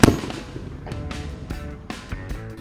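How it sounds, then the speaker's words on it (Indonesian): Fireworks and firecrackers, including a Roman candle, go off at night in a sharp opening bang followed by a string of irregular pops and cracks, fairly near and without talk. "Kita akan menyalakan Roman candle terbesar dan semua petasan kembang api."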